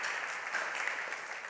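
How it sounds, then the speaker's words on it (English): Audience at a church service applauding the pastors, a steady dense wash of many hands clapping throughout, fairly distant and even. "Can we give all of them a hand"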